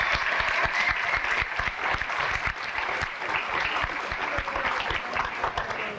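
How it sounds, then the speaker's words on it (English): A high school graduation audience applauds two former class advisors, with steady crowd clapping sustained throughout and sharp individual claps standing out in the wash. "If we give them a round of applause, please."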